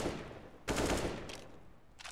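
Computer-game AK rifle gunfire in a Counter-Strike match on the Cobblestone map, sharp bursts of shots with short gaps between them over a quiet background, no voices.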